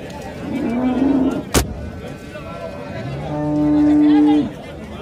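Holstein Friesian dairy cows at a cattle market in Erode, Karungalpalayam, let out two close, loud moos, a shorter one then a longer sustained one, with a sharp knock between them over crowd noise.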